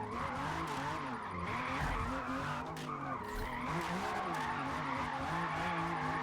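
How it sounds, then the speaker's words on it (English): Video game racing car engine revs and shifts while tires squeal in long skids through drifting turns on a track, loud and continuous with no talking. "It's really easy to drift the car"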